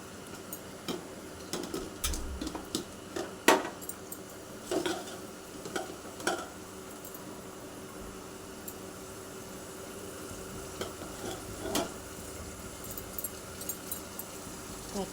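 Tomatoes and green chillies cooking in a pan give a steady low sizzle, broken by frequent sharp clicks and scrapes of stirring, with a few louder clatters near the start and middle; no one speaks.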